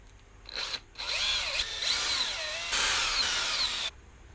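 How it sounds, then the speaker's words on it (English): A power drill backs screws out of a scooter, heard up close as several loud whirring bursts that rise and fall in pitch across a few seconds, with no talking. "Next, take those two screws off."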